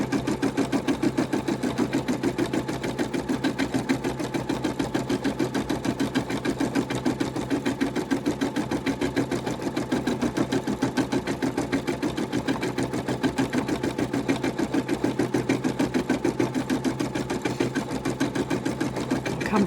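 A Brother NV180 embroidery machine stitches a batch of seven badges, a steady rapid needle chatter running continuously and close for the whole stretch with no pauses.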